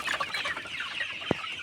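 Broiler chickens on a poultry farm cluck and murmur as a steady, close flock chatter, with one sharp louder call near the end.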